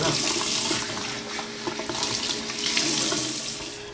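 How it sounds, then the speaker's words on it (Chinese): Dried red jujube dates rinsed under a running faucet, a loud steady gush of water splashing in a sink, close and continuous with slight surges, no voices. "我们把红枣冲洗一下，因为这些红枣呢都是晒干的，所以上面可能会有一点灰尘，所以我们稍微冲一下就行"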